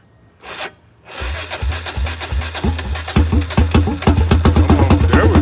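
After a brief rustle, a small engine fitted with a new exhaust cranks and catches, settling into a loud, fast, rhythmic putter that grows steadier, close by.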